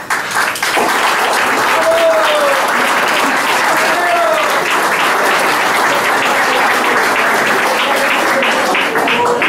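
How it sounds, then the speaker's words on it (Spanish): A crowd applauds at a 50th birthday celebration, with loud, dense clapping that keeps up steadily for the whole stretch and a few faint voices underneath. "Que cada uno de nosotros te brindemos un gran aplauso por este cumpleaños número 50"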